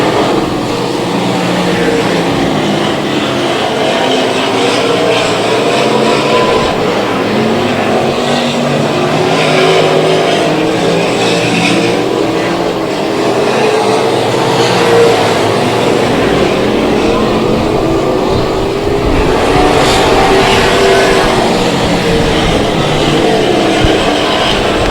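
Southern Sport Modified race cars roar around an oval track in a night race, engines droning loud and continuous with rising and falling passes as the pack circulates.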